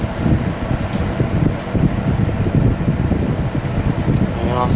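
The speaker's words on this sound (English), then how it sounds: "You can hear the grommet slipping away." A GE F11T4 window fan runs with a steady broadband whoosh and low rumble, the slipping drive grommet adding faint irregular rubbing beneath the constant airflow.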